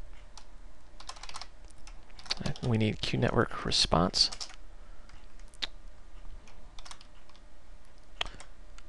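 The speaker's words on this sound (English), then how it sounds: "the vast majority of you like watching me screw up my typing" Quiet, irregular clicking from a computer keyboard during coding, in short bursts through the whole stretch, with someone briefly talking in the middle.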